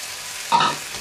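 A brief stir as chopped tomatoes and peas are turned into a pork curry with coconut in a pan, giving a short, close scraping sizzle over a soft frying hiss.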